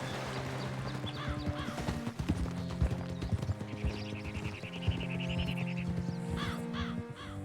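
Steady clip-clop of horse hooves in Red Dead Redemption 2, with crows cawing and game music in the background; a horse whinnies briefly.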